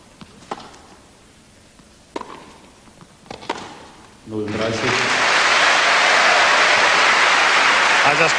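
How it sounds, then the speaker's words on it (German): A tennis crowd at the Stuttgart final between Pete Sampras and Boris Becker breaks into loud, frenetic cheering and sustained applause after a few scattered claps, the roar swelling suddenly and holding steady to the end. "frenetischer Jubel bei diesen ersten beiden Punkten, auch Beifall von Mutter und Vater Becker"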